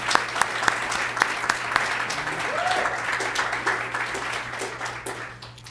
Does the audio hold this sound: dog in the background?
no